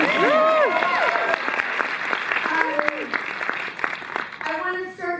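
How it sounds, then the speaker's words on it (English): An audience applauds at a film anniversary screening event, dense continuous clapping throughout while voices talk and laugh over it. "So you can clap for that."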